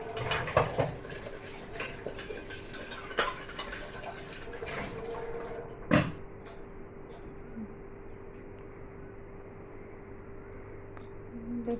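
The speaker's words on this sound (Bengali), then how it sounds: "আর এই কলটা মাঝে মধ্যে খারাপ হয়ে যায়, মানে কখনো জল পড়বে" Water runs from a faulty kitchen tap in a steady, soft hiss, with a few sharp clinks and knocks early on and one louder clatter midway.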